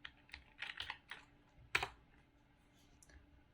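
Typing on a computer keyboard, with a quick burst of clicking keystrokes, a sharp louder click near the middle, then sparse faint taps, all close and with no voice.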